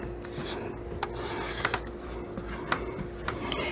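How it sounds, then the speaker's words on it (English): A spatula scraping down the sides of a mixing bowl of cake batter for a Louisiana crunch cake, giving soft, close rubbing and scraping strokes with a few sharper scuffs over a steady low hum. "We're going to scrape down our bowl."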